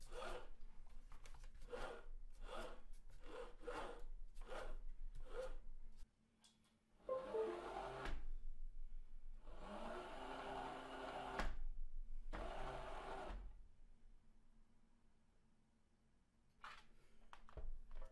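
Thrustmaster T248 racing wheel being turned, belt and gears giving a soft rasping rub in bursts, first short rapid strokes, then longer sweeps with brief quiet gaps, close and faint.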